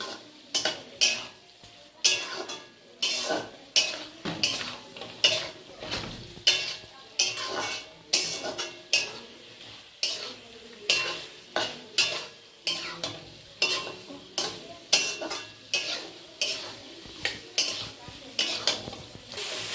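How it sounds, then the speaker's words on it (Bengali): Pointed gourd and potato being stirred and fried in spice masala in a pan, a rhythmic series of scraping spatula strokes about once a second over a soft sizzle, close and steady. "এবার আমি পটল আলু এর মধ্যে ঢেলে দেবো, দিয়ে এটাকে ভালো করে একটু কষবো"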